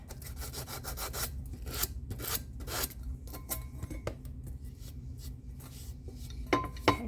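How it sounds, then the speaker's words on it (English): A power sander grinds rust off an old metal piece being prepped for resale, giving a steady, close, raspy rubbing hiss over a low hum, with scraping bursts throughout and a sharper scrape near the end. "take a sander to that though. That's rust."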